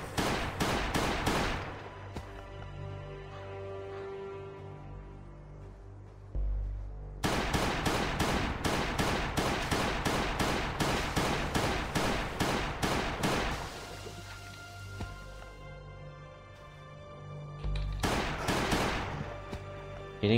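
Pistol gunshots in the survival video game Last Day on Earth ring out as loud, rapid cracks in fast bursts, with short pauses between the volleys.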